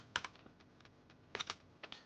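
Keystrokes on a computer keyboard while entering notation in music software, a few quiet separate clicks in two small bursts with pauses between, close and alone.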